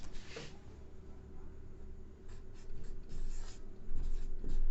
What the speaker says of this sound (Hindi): मैं लिखता हूं।